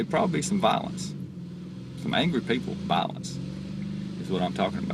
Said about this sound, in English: that's a car in the background revving up the engine